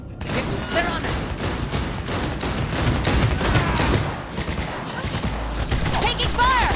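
Gunfire in the Cyberpunk 2077 video game, dense sustained fusillade of shots with crackling bursts, loud and continuous, mixed with game music and voices talking throughout.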